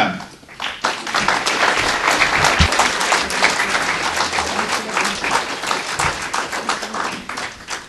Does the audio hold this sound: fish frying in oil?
no